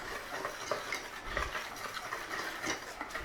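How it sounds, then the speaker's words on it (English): Seasonings, garlic powder and flour whisked together in a bowl for ham and cheese scones, giving a steady scraping stir with light taps of the whisk against the bowl, close and moderately loud, with no talking. "Give that a whisk."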